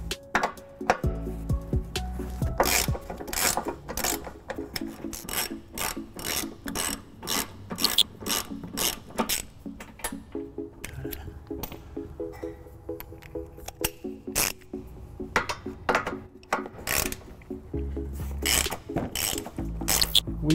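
A hand ratchet with 18mm and 15mm sockets loosens bolts from the frame of a 2017 Dodge Grand Caravan, giving repeated bursts of sharp clicking with short pauses and some metal scraping, close and alone.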